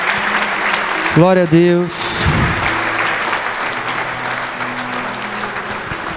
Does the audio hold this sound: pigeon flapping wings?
no